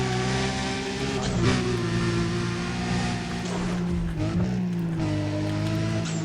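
A car in the racing game Need for Speed: Undercover accelerates hard with a loud, steady engine drone that rises and dips in pitch through gear changes, carried continuously without pause.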